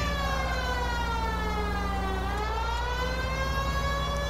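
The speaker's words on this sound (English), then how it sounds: "I have my siren on" A police car siren in the video game L.A. Noire wails steadily and loudly throughout, its pitch sweeping down and back up, with a constant engine hum beneath.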